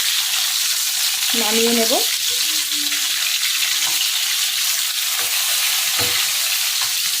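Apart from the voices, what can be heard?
fish frying in a pan, flipped and stirred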